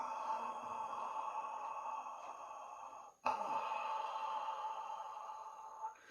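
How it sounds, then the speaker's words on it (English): Slow ujjayi breathing through a slightly constricted throat, a long steady hissing airflow that breaks briefly before the next breath, close and alone. "It's just one notch of closure so that now we can hear our breath move and we can feel it."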